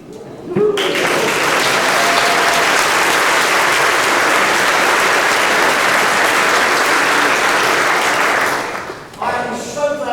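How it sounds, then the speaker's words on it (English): A concert band celebration audience breaks into loud, sustained applause that starts abruptly, holds steady at full strength for about eight seconds, then fades out quickly. "I have written pause for applause"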